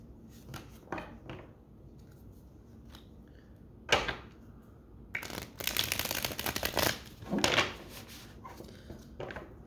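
A deck of cards is shuffled in several quick riffles and flutters, close by, with pauses between bursts and louder riffling toward the end.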